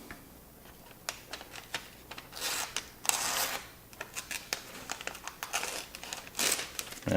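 A knife push-cuts straight down through paper pages, making repeated crisp crinkling and tearing rustles, with a few louder crunching bursts close by.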